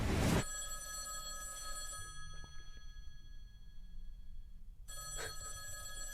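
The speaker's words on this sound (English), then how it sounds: "that phone over there is gonna ring" A telephone bell rings in a short burst at the start, then falls quiet over a low background hum before ringing briefly again near the end.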